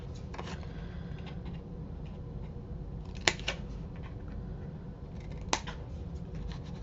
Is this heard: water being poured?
no